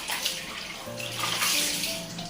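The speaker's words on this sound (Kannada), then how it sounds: "ಅವರು ಜಳಕ ಮಾಡಾಕತ್ತಾರ" Water splashes and pours steadily during a baby's first bath, close and continuous, with no voices.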